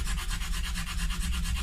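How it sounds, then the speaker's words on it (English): Short, rhythmic rasping strokes of sanding down the nut on a Schecter Hellraiser seven-string guitar being converted to six strings, close and steady with no talk. "So there's a lot of sanding down of the nut to do now."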